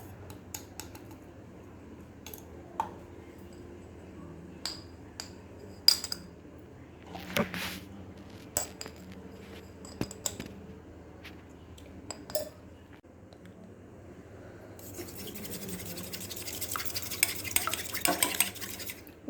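A fork beats eggs with salt and pepper in a bowl, giving quiet, scattered taps and clicks that turn into a quicker, denser whisking rattle toward the end, with no talking.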